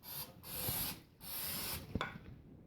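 Cooking spray hissing onto a Ninja Foodi air fryer basket in two bursts, each lasting about a second with a short gap between them, close and fairly quiet, followed by a small clatter.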